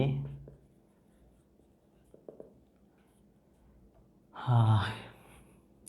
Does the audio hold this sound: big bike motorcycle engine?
no